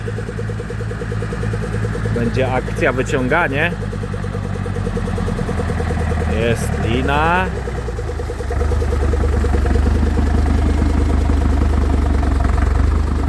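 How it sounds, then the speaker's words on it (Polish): A tractor engine idles and rumbles close by as it arrives in an orchard in Switzerland to pull out a stuck vehicle, its note rising louder toward the end while people talk over it. "Proszę bardzo, podjeżdża już traktor."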